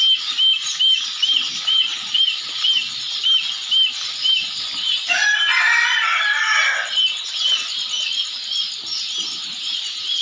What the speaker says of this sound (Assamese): আৰু এইপিনে আছে গিনি ফল।